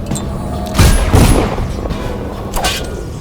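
Gunfire in the Dishonored video game: two heavy booming shots close together near the middle, then a fainter third blast, with a low rumble between.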